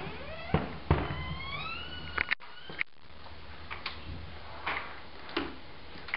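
Fourth of July fireworks go off at a distance, with rising whistles followed by scattered sharp bangs and crackles at irregular intervals over a low background rumble.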